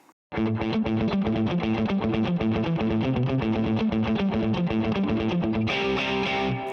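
Heavily distorted electric guitar churns through a riff recast in natural minor, busy and repeating, loud and unbroken, shifting to a brighter tone for the final stretch.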